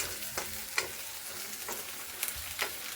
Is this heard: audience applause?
no